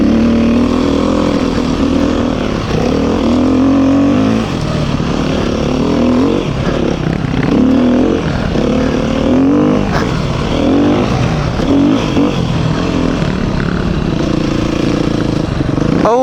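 A Beta 390 RR dirt bike rides a trail through slow bends, its single-cylinder engine loud and close throughout, rising and falling with light throttle blips and revs.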